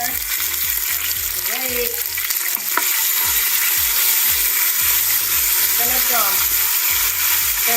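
Red curry paste sizzles and spits in hot oil inside an Instant Pot, with steady frying hiss under occasional stirring scrapes and a brief spoken remark.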